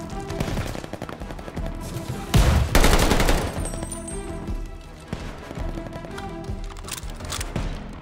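Gunfire in the Call of Duty Vanguard campaign, fired from indoors, heard as rapid, loud bursts and shots in quick succession, with a heavier blast in the middle and sustained rattling throughout.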